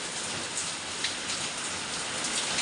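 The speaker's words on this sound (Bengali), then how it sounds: "দেখো কিভাবে বৃষ্টি হচ্ছে" Heavy rain pours steadily and loudly from a cyclone storm, a dense unbroken hiss of drops on surfaces with no pauses and no voices.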